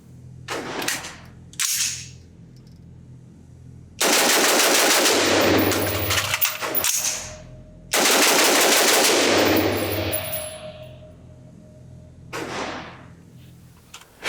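A B&T APC223 pistol, an AR-15-pattern gun, fires at an outdoor range in two long rapid bursts of sharp, loud shots, with a few isolated clicks and bangs between them.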